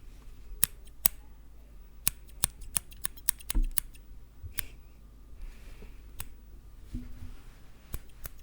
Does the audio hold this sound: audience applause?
no